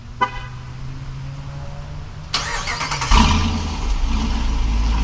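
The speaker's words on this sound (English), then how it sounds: "let's take a listen to this now, because we have the remote start." A 2023 Dodge Durango R/T Hemi starts by remote start. After a short electronic chirp, the engine cranks and catches with a deep rumble, then settles into a steady, moderately loud idle nearby.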